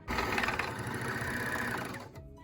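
Bernina L450 overlocker running a 4-thread stitch, a loud, steady close-up machine whir that holds evenly for about two seconds before stopping abruptly.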